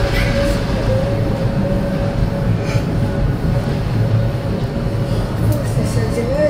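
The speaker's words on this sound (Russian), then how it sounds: "Кремольер — это такой маленький поезд." A rack railway train climbing slowly uphill rumbles steadily with a continuous low mechanical drone and faint squeals, heard from on board, with voices murmuring underneath.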